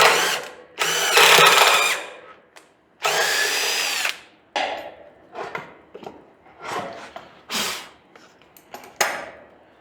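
A power drill whirs in short bursts while building a homemade trailer, several loud spurts at first, then shorter, choppier pulses as the bit bites into material nearby.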